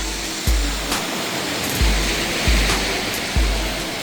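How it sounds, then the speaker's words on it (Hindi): A waterfall at a Cornwall beach roars as a loud, continuous broadband rush close by. Low thuds recur every second or so beneath the falling water. "और ये जी वाटरफॉल"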